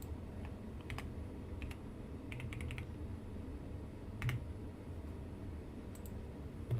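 Intermittent bursts of keyboard typing at a home livestream desk, scattered key clicks in short clusters over a steady background hiss, close and fairly quiet.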